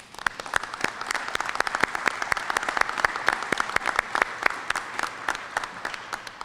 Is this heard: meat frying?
no